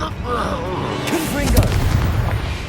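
A Stupefy spell is cast in the Hogwarts Legacy video game, a burst of magical impact mixed under in-game voices and combat noise.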